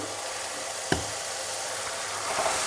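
Spice masala fries in oil in a pan, a steady close sizzle throughout, broken once by a single sharp knock of a utensil against the pan.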